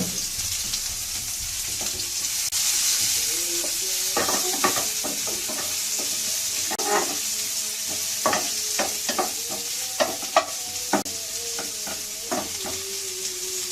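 Chopped onions sizzle in hot oil in a pan while a tilapia bhuna is being cooked, a steady close frying hiss broken by frequent scraping stirs.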